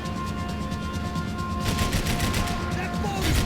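Gunfire in Max Payne 3 as a grenade is shot during an on-rails segment, a rapid burst of shots that turns into a heavier, denser volley partway through and stays loud to the end.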